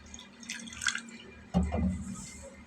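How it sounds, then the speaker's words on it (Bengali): Plain water poured into gram flour batter, a faint dripping trickle followed by a brief, fuller splash and gurgle, close and quiet, with no voices. "তো তারপরে দেখুন এখানে আমি নর্মাল পানিটা দিয়ে নিচ্ছি"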